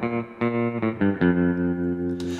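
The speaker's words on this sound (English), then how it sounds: "since I'm kind of going for that Fender clean, I left that spring reverb on." Clean electric guitar notes ring out one after another, each decaying into a splashy spring reverb tail, played alone with a bright, slightly twangy tone.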